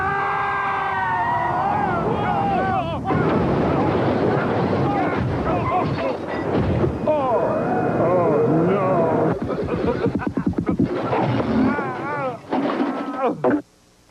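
Car crash-test dummies ride in a rollover crash: a loud, chaotic run of metal crunching, banging and tumbling impacts, with voices over it.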